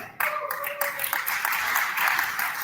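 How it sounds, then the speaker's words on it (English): An audience breaks into sustained applause for the Austrian team at the European Cyber Security Challenge, a dense, steady wash of clapping that starts abruptly and continues throughout, with a voice briefly audible near the start. "Applause for Austria."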